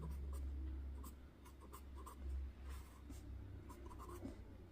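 Writing on a board during a maths lesson on linear equations, heard as soft, faint scratchy strokes in short bursts over low room hum.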